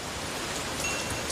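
Rain falls through a dark night in a village zombie horror film, a steady, dense hiss of drops on surfaces with no voices.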